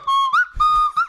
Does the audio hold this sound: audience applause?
no